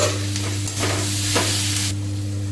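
Fish stirred in a pan with ginger, garlic and salt: a constant frying hiss over a low steady hum, broken by several soft scraping strokes of the spoon, close and moderately loud, no talking.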